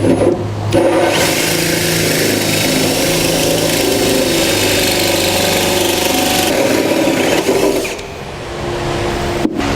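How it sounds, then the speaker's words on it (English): A loud, steady power-drill whine as a 2 1/8-inch hole saw grinds through the metal bed of a 2015 Chevrolet Silverado pickup, running continuously for several seconds, then easing off near the end. "I'm going to come back with a 2 1/8 hole saw, and I'm going to drill a hole"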